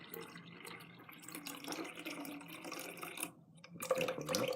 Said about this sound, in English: So you pour carefully and the SCOBY will stay in the big jar.